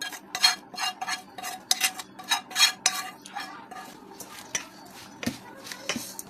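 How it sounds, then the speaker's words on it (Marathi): Raw mango pickle being stirred with masala in a pot for an instant pickle: a steady run of scraping, clinking spoon strokes against the pot, close and fairly crisp, with no one talking. "छान व्यवस्थित प्रकारे याला मिक्स करून घ्यायचं आहे"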